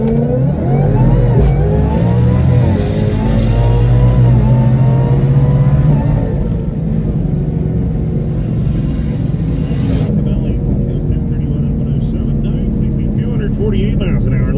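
A drag race car in a shootout launches and accelerates hard, a loud sustained engine roar that rises and then fades, with an announcer talking over it throughout.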